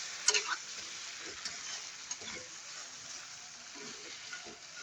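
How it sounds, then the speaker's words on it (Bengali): Fish lightly frying in a pan, a faint, even sizzle with a few small clinks of stirring near the start, quiet and close with no voices. "মাছটা একটু হালকা করে কষে নিব যাতে মাছের কোনো কাঁচা গন্ধ না থাকে"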